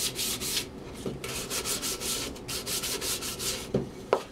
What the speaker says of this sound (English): And a little sandpaper.